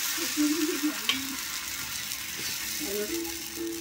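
Mung dal batter fries on an oiled tawa, a soft even sizzle near the microphone, with a few brief tonal scrapes and a light clink early on.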